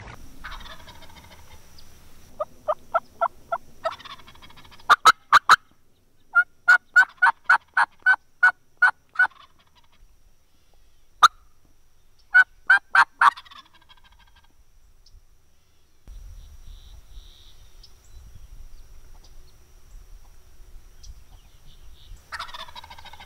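Wild Osceola turkey on private land gobbling in repeated rapid bursts, several loud strutting calls spaced across the recording, with quiet outdoor background between them and a low rumble near the end.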